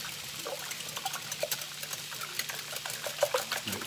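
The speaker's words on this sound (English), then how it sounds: "we're just going to give that a good whisk" Eggs and milk whisked in a clear bowl for a Spanish omelette, giving a soft, rapid liquid slosh and light tapping of the whisk against the bowl, close and steady throughout.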